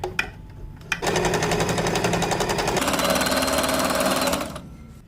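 A sewing machine stitches fabric for a newborn baby cap in a fast, rattling burst. The run starts after a short pause, speeds up, then stops.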